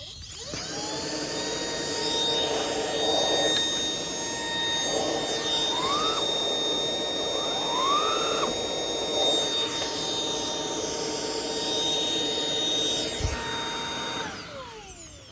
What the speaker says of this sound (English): I'll show you guys that the brush roll spins.